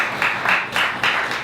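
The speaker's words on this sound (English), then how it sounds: "Let's give her a round of applause." Audience clapping at a lecture on slavery and repatriation: a short run of evenly spaced, fairly close bursts of hand claps with no voices over them.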